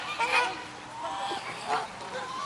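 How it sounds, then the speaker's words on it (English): A duck gives loud, harsh, honking quacks in a few ragged bursts close by, with an open outdoor hiss behind them. "Get that duck over there."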